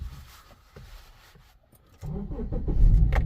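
A Subaru car engine cranks and catches, quiet rattling at first, then a sudden start at the two-second mark into a rising, rough idle revving close by.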